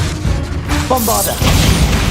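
Bombarda exploding spell in Hogwarts Legacy, a loud booming blast with crashing debris amid dense game combat noise.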